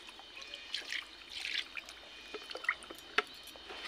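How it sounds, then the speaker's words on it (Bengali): Sand falling off a soaked item into a basin of water during washing makes faint, scattered trickles and tiny patters, quiet and close, with small splashes dotted irregularly throughout. "বালু পড়ছে দেখো"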